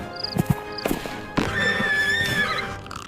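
A horse whinnies twice in short bursts near the start, then a longer, loud neigh rises and trails off, all close and with no voice over it.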